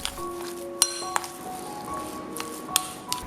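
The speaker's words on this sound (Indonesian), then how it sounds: "Aduk sampai semua tercampur rata." A spoon stirs chopped shrimp dumpling filling for gyoza in a bowl, giving scattered light clinks and pings against the bowl over a soft, wet mixing sound, close and unhurried, with no talk.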